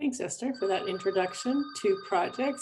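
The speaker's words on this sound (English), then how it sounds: "Pardon the phone ringing." An office or landline telephone rings during a public meeting on a community wildfire protection plan, its steady high tones sitting faintly behind a man's close, continuous speech.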